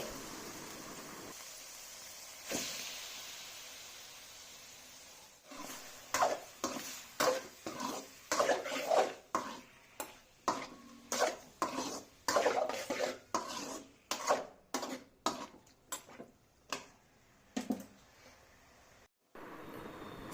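Prawns frying in hot oil in a pan, heard mostly as a long series of sharp metallic clanks and scrapes of a utensil against the pan, coming in an irregular rhythm over a low sizzling background.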